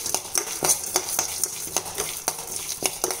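A spoon scrapes and stirs roasted gram dal in a hot pan in repeated rhythmic strokes, with a soft sizzle and dry rattle of the lentils underneath, close by and with no talking.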